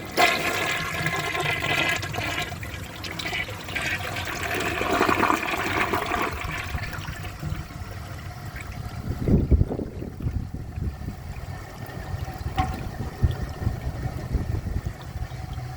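A 1964 Sears toilet flushes with a long, steady rush of water through the bowl, gurgling and swirling, then drains off into a quieter refill trickle with a deep glug partway through.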